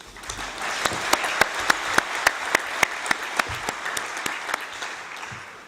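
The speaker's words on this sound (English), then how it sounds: "let's give them all a round of applause" Delegates at a UNEP opening session on South-South cooperation applaud in a steady wash of clapping, with a few sharp, louder individual claps standing out at a regular beat.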